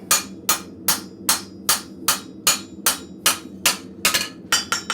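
Ball peen hammer striking metal at a blacksmith forge, a steady run of about a dozen sharp, ringing blows roughly every half second, closer and quicker toward the end, with no voices.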